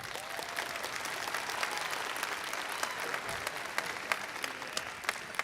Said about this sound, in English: can we please give ourselves a big round of applause to celebrate this moment